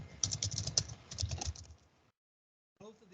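A computer keyboard clatters with a run of close, crisp keystrokes for about two seconds. Silence follows, then a faint sound returns near the end.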